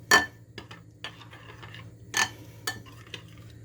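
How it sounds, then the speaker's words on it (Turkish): A spoon stirs a homemade dill dip sauce in a bowl, giving faint, quiet clinks and scrapes at irregular intervals against a low background hum. "Şöyle bir karıştıralım."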